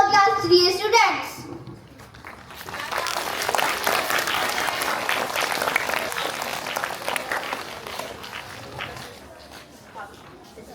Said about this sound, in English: So give a big round of applause for class 3A students.